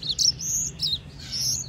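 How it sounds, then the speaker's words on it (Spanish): Young Mozambique canary, about three months old, chirping and twittering in a large aviary flight among other birds; bright, busy high chirps come in short bursts throughout, fairly close and alone without talk. "Este pájaro ahora puede tener unos 3 meses, 3 meses y algo, y es un loco ya cantarruteando y haciendo sus cosas."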